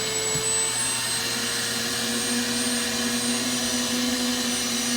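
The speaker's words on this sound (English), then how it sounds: "then simply extract it off with using the shop vac." A shop vac extracts rinse agent from car upholstery while detailing away dog vomit, a steady loud whine with constant suction roar throughout.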